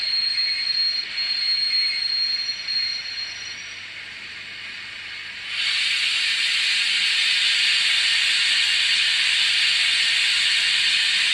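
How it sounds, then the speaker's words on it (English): Hornby TT:120 model steam locomotive sound: a steady, loud broad hiss of steam that dips slightly, then surges louder and continues evenly, with a faint thin tone at times and no voices. "the background steaming noise, it does seem to overpower like the whistles and stuff"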